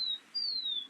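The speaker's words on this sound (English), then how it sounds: "I hope you hear a bird. That's one of our beautiful indigenous signals when they start chirping like that." Outdoors, a bird gives two thin, high whistled chirps, the second longer and gently falling in pitch, fairly faint against a quiet background.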